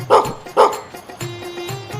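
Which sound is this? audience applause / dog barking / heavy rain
dog barking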